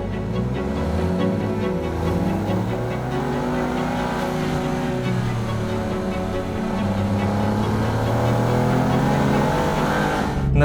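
An Alfa Romeo Giulia's 2.9-litre twin-turbo V6, 520 horsepower, revs and surges, rising and falling in pitch with a deep, loud roar throughout.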